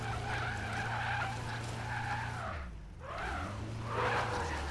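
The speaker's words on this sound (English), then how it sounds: "Check out this Tokyo drift driving." A car drifting in the video game Uncharted: The Lost Legacy, with sustained loud tire squealing and skidding over a steady engine hum, briefly dipping before a second long screech.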